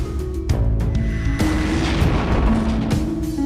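Deep, loud booming blasts, several in a row, from a warship exploding in a Kamen Rider movie, each rolling into a rumbling roar that fills the space. No voices.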